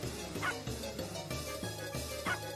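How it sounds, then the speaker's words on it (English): A cartoonish puppy in the video game Shantae: Risky's Revenge gives a run of repeated yappy barks and whimpers in a steady rhythm, loud and up front over game music. "I wonder where Shantae had that puppy"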